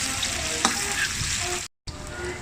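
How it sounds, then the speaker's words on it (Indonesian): Onions frying in a pan, a steady close sizzle and crackle with a brief stir partway through, then a momentary cut to silence before the frying hiss resumes. "masukkan setengah saja nih bawang besar. Masak dia sampai layu"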